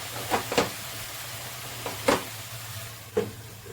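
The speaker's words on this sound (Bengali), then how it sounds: "একদম ভাজা ভাজা হয়ে গেছে মশলাটা, তেলও ছেড়েছে" Spices with potato and cauliflower sizzle softly in hot oil under a steady low hiss, with three or four scraping stirs spaced a second or so apart.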